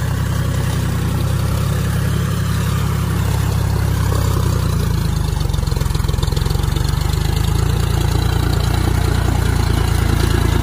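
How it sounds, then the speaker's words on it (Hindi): Heavy tractor ploughing a field, its engine giving a loud, steady low drone that sits close and continuous the whole time, without speech. "इधर देखिए ट्रैक्टर किस तरह जोत रहा"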